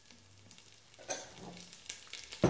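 Food frying gently in oil on low heat in a home kitchen, a soft crackle and sizzle with scattered pops and a sharper burst at the end, quiet and close.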